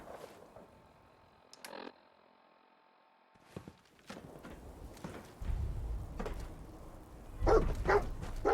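Dogmeat, the dog companion in the Fallout 4 video game, gives a couple of short barks and whimpers amid footsteps and game ambience, with heavier thumps and rumbling toward the end.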